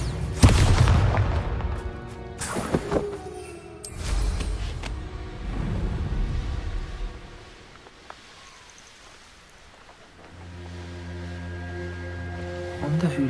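Bombarda blasting spell explosions in Hogwarts Legacy: several heavy booms and crackling blasts in the first few seconds, trailing rumble, then quieter magical ambience and a low drone.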